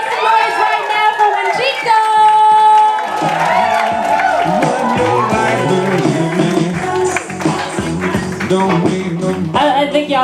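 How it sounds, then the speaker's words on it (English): A nightclub comedy crowd claps and cheers for an act coming to the stage, a loud dense wash of applause and shouts mixed with voices. "I think y'all are clapping way too hard."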